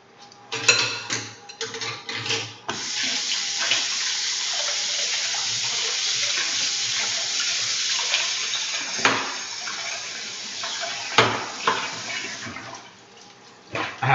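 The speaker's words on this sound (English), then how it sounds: "I have to wash off my whisk." Tap water runs steadily into a kitchen sink while a whisk is rinsed, a close, loud hissing stream with brief splashy bursts and clatters as the utensil moves under it.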